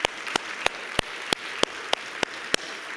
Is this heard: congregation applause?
yes